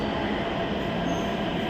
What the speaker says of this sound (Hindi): हमारी मेट्रो आ गई नोएडा इलेक्ट्रॉनिक सिटी